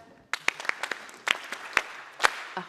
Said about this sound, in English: Farmer Field Schools, clap.